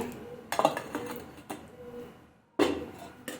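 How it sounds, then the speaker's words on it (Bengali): A metal lid set onto a pot of cooked rice: a few close clanks and rattles early on, a quieter stretch, then one more sharp clatter near the end. "তারপরে ঢাকনাটা চাপিয়ে দেব।"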